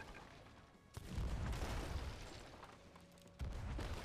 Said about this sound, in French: il bourrine avec son canon et il va faire plein de trous dans notre